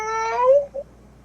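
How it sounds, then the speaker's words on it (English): A cat gives a single clear meow, rising then falling, followed by a short softer chirp, close and alone against quiet. "was there a cat meowing?"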